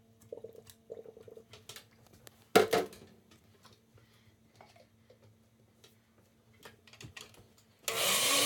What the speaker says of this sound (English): You're going to blend it.